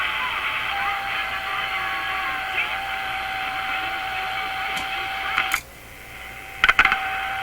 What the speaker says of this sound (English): So you can kind of hear there's a radio station behind there.